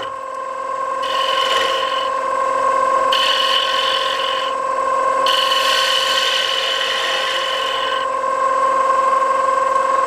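A gouge cuts a square wooden bowl turning on a lathe. The motor keeps up a steady hum while three rasping cutting passes come and go, each lasting a second or more, the last one longest, and no one speaks.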